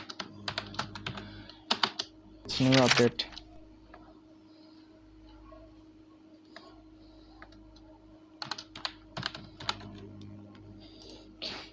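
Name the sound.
typing on a computer keyboard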